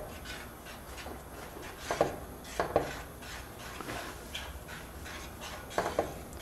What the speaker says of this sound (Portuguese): Mexe bem no fundo para não ficar nada grudado no fundo da panela.